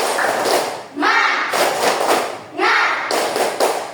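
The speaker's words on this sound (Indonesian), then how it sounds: "Tepuk semangat" A group claps out a rhythmic 'tepuk semangat' cheer in a classroom, with dense bursts of hand claps in repeating patterns and voices joining in.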